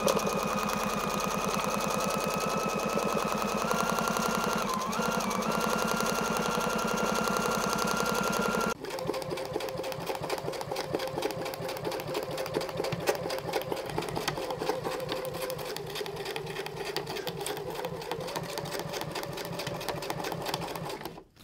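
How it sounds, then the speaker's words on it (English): An embroidery sewing machine fitted with a Schmetz spring needle stitches through water-soluble stabilizer in a hoop, a loud steady rapid hum that changes pitch partway through and runs on without a break. "it makes it a little more easier to sew with the embroidery spring needle"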